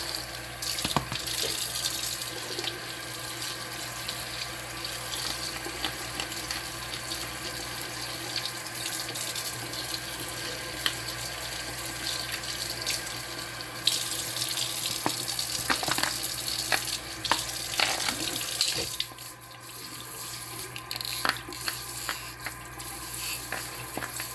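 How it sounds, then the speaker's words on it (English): Faucet water pours continuously into a bowl holding a whole raw chicken for a long stretch, with occasional clatter and shifts in the splashing, no talking. "I'm going to sit it in a bowl with some water"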